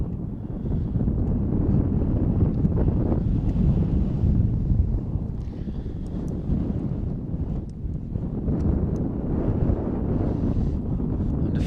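Strong wind buffets the microphone in low, rumbling gusts at an outdoor football match on a windy Christchurch day. The blustery roar carries on steadily throughout.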